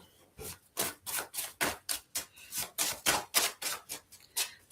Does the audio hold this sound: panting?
no